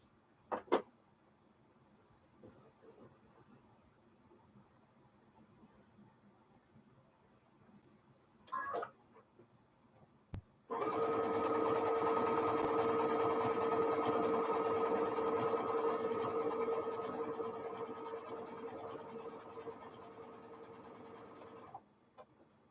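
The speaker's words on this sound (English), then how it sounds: "I'm sewing off the edge here because I want to make sure that I get that seam" A sewing machine stitches a seam on a quilted string block: a few faint clicks, then a steady, close motor whir runs for about eleven seconds before stopping abruptly.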